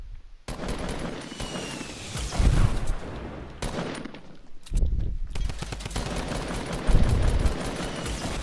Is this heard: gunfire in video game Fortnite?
yes